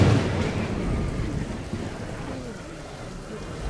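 Steady rain and a low thunder rumble wash together in a dense broadband roar with wind noise, and no voices.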